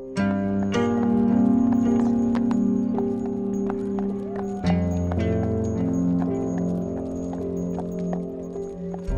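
A loose horse's hooves clip-clop through village streets on a winter holiday, the beats fairly close under steady music.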